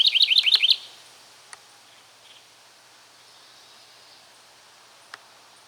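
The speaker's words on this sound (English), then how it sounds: "This bird here is nesting one of my planters." A bird nesting in a garden planter gives a quick close burst of bright, rapid chirps, then falls mostly quiet apart from a couple of faint clicks.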